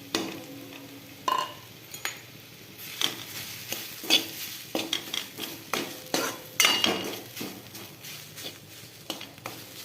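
Grated coconut roasting in ghee in a hot kadhai, with a soft continuous sizzle under repeated scraping and stirring strokes of a metal spoon against the pan, clattering irregularly and close.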